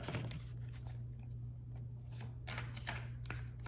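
A Celtic Dragon tarot deck is shuffled in quick papery riffles and flutters, close and quiet, over a steady low hum.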